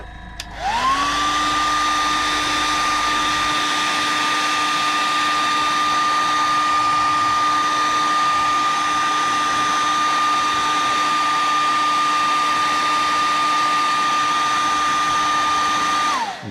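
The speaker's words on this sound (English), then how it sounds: "Hit this with a hair dryer" A hair dryer blows steadily on a freshly painted fishing lure, a close, loud whine that spins up quickly and holds an even pitch for about sixteen seconds before winding down at the end.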